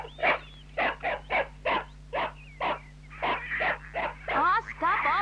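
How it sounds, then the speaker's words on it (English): A dog barks repeatedly in short, evenly spaced bursts, followed by a few higher whining yelps, with a steady low hum underneath. "stop all that barking, Julia."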